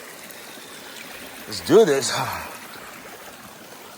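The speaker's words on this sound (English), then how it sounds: "I know this ain't like the regular stream here" Steady broadband rush of a stream swollen after rain on the Appalachian Trail runs throughout, with a voice speaking briefly in the middle over the stream.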